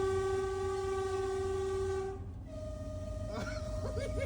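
A train passes with a loud, sustained horn blast that cuts off partway through, then a second, higher tone continues over the rumble and clatter of the rail cars.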